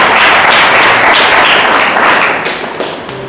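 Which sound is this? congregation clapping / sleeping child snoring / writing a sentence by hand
congregation clapping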